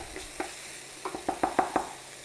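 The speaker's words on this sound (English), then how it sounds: "We've got our sizzle going on." Lamb pieces sizzle in a hot pan with garlic for a Mongolian lamb dish, a soft steady hiss broken by several short stirring scrapes that bunch together toward the end.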